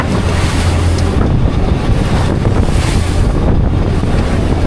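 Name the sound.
large sea waves and strong wind around a fishing boat in a storm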